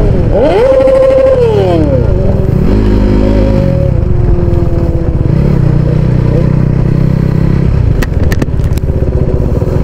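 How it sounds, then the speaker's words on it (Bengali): A superbike engine revs loudly and close by during a ride, its pitch climbing and falling in repeated sweeps before settling into a steady drone, with a few sharp clicks near the end. "this is a super bike"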